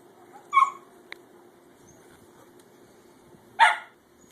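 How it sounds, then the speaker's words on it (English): A dog barks twice, a sharp bark early and another loud bark near the end, with a quiet pause and faint background between them at a backyard pool. "Hey, no barking."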